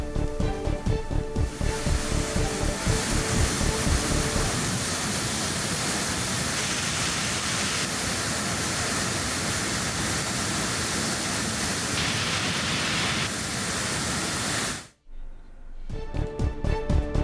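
Water gushing heavily down the Courtallam waterfall, a dense, loud, unbroken roar that carries on steadily and cuts out abruptly near the end before returning.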